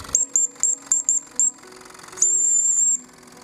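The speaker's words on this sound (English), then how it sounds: "I can be very annoying with a whistle." A small model steam engine whistle gives six short shrill toots in a quick row, then one longer sustained blast, over a soft mechanical hiss.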